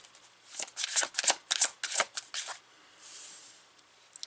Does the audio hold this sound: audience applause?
no